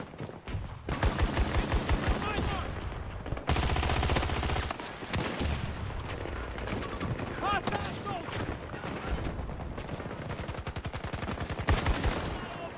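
Battlefield 2042 gunfire rattles loudly in rapid automatic bursts, with repeated volleys and brief pauses, plus heavier blasts mixed in across a long, busy stretch of combat.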